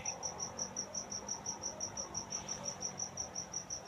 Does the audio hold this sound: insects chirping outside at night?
yes